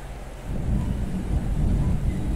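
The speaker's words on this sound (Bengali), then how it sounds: "মেঘ ডাকছে।" Thunder rolls in during rain, a deep, loud rumble swelling after a quieter start and sustained over the steady hiss of rainfall, with no talking.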